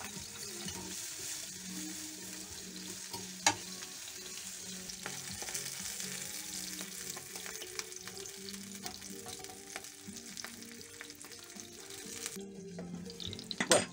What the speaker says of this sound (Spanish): Fuego al mínimo, la cebolla también al mínimo.